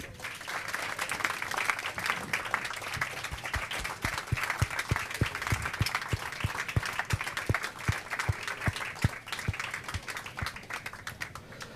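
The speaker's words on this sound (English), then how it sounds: "When they were clapping" An audience at a cast interview for the series Mr. Sloane claps and applauds, a dense, steady patter of many hands that carries on evenly for nearly twelve seconds at moderate distance.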